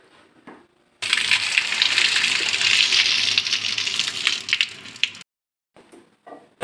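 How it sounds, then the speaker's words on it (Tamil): Hot water from boiled plantain is poured off, a loud steady gushing splash lasting about four seconds before stopping, followed by faint kitchen clatter. "இதை எடுத்துகிட்டு இந்த தண்ணி வடிச்சுக்கலாம்."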